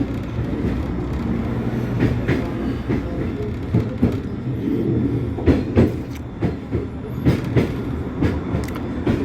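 A metro train rumbles and clatters across the Metro Bridge over the Dnieper in Kyiv, with a steady loud rolling roar and sharper rhythmic clicks of wheels on rail joints toward the end.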